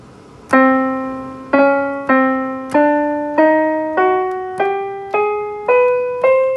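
Eight single notes of the double harmonic major scale rise one after another, each struck cleanly and left to ring and fade, evenly paced with nothing else playing.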